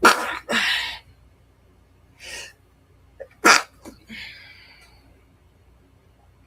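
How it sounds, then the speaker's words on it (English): A single sharp sneeze rings out close by, with a few soft breaths and snorting sniffs before and after it in an otherwise quiet room. "Hold on, I gotta sneeze."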